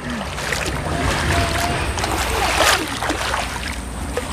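Water splashes and sloshes continuously outdoors in the mountains, loud and close with scattered sharper splashes throughout.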